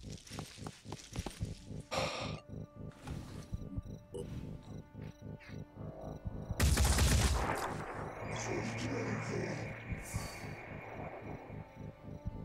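Gunfire in the video game Phoenix Point: a few sharp shots, then a louder burst of firing near the middle, mixed with game ambience and faint clicks.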